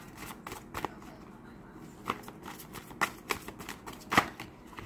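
Tarot cards are shuffled by hand in a series of soft riffling bursts and light slaps, close and quiet, with brief pauses between them and no talking.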